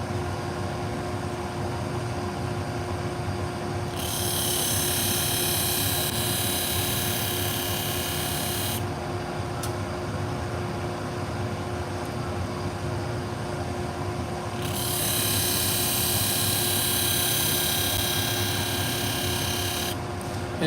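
Pet grooming shears being sharpened on a flat hone, starting with an aggressive grind on a badly ground blade: a steady, loud abrasive rasp runs throughout, with two long, harsher bursts of grinding.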